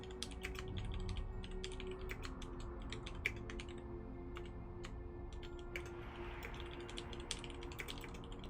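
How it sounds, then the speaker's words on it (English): Rapid computer keyboard typing, a steady stream of light clicks and taps at close range over a low background hum during a StarCraft 2 tournament broadcast. "Just typing in Discord."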